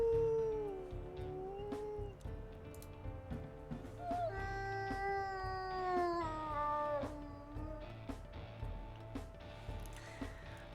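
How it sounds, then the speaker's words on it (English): Wolf pups in WolfQuest: Anniversary Edition let out pained howls, a series of drawn-out, wavering cries that rise and bend in pitch and sometimes overlap, fairly close over a low background murmur. "It looks like we've had 2 in this litter that had this pained howl."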